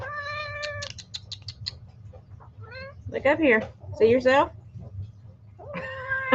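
A house cat meows several times in short harmonic calls, close by, alternating with a voice talking to it in a room.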